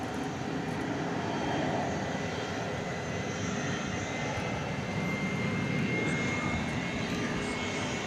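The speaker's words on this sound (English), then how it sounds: "It's UPS Flight 761. It's going to Ontario, California." A UPS Airbus A300 jet on a runway at Dallas Fort Worth airport at night produces a steady, distant engine rumble and roar that holds evenly throughout without pause.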